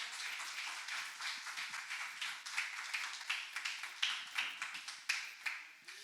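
Congregation applauding during a Portuguese-language church service: a faint, steady patter of many hands clapping continues throughout with no talk over it.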